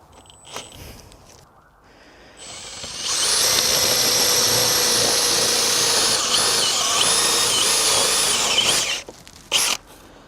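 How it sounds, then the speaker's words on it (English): A power drill bores out bolt holes in timber floor blocks, a steady loud whine running for about six seconds before cutting off, with a short burst after. "I have to drill these out a little bit"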